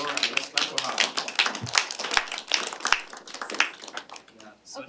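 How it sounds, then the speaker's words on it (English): Small audience clapping after a technical talk, a sparse, uneven patter of individual claps with some voices mixed in, thinning out at the end. "let's clap for her."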